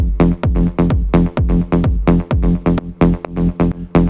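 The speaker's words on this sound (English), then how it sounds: "today we are making Melodic Techno Bass from scratch" A punchy melodic techno synth bass, made in Ableton's Wavetable synth, repeats a driving, pulsing pattern alone, each note with a deep thump and bright tonal decay, steady and loud.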